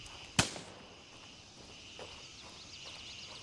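One sharp, loud gunshot in an online shooter game, followed by faint scattered distant pops and quiet background noise.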